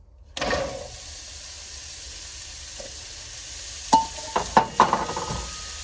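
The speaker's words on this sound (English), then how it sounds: "got a little bit of a sizzle going. We're going to go ahead and throw our onions in." Frying sizzle as onions go into the pan begins abruptly and holds as a steady hiss, with several sharp clatters and scrapes of stirring in the pan near the end.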